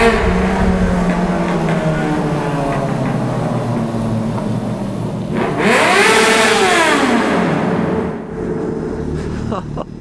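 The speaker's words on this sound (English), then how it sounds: "Back wheel spinning as well." A motorcycle revs hard with its back wheel spinning, a loud close engine roar that swells into a rising and falling whine midway, then drops off, with someone talking over it.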